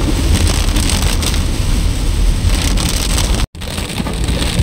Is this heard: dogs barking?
no